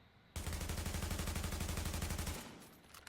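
An AUG A3 rifle in the video game The Division fires one sustained full-auto burst of rapid, evenly spaced shots lasting about two seconds, loud and continuous before trailing off.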